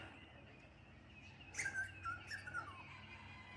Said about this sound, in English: Butcher birds and noisy miners, kookaburra.